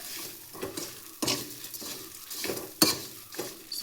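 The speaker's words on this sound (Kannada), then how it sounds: "ಒಂದ್ಸಲ ಈಗ ಚೆನ್ನಾಗಿ ಮಿಕ್ಸ್ ಮಾಡ್ಕೊಳ್ಳಿ ಎಲ್ಲದನ್ನು" Radish curry mixture with turmeric and tamarind being stirred in a pot, with repeated scraping strokes of a spoon against the pan over a soft sizzle, close and steady with no talking.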